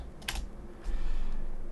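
Fingers tap on a computer keyboard in a quick burst of close clicks, followed by a few softer keystrokes over a low background hum.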